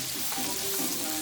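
White onions frying in a hot pan for curry shrimp, giving a dense, continuous close sizzle that stays loud and even throughout with no talk.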